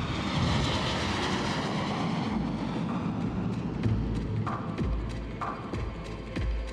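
A cargo plane landing at Roissy airport at night, a steady broadband engine roar that stays loud and close the whole time, with a few low rumbles and faint clicks beneath it.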